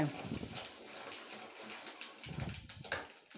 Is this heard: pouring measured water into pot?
yes